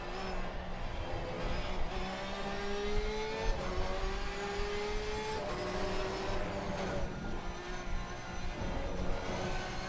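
Ferrari racing car engine at Kyalami in a racing video game, revving and shifting through gears with rising, falling whine and a few upshifts, loud and steady with no voices.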